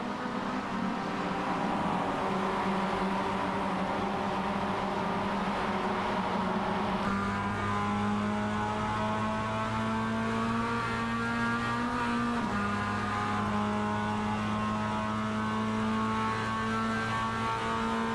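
Mazda Cup race cars at Sebring, in a sim racing series, hold a steady high engine drone as they run close together, pitch shifting with gear changes and a second car's tone layering in, with no talk.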